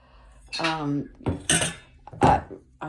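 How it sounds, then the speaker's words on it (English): Pots and pans, including a Cuisinart pan, clatter and clink in a home kitchen in several distinct bursts of metal handling, close and fairly loud, with no talking. "here's a couple of the brands of pots and pans I have"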